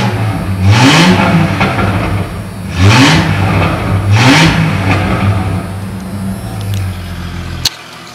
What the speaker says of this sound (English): Let me give you guys a little rev.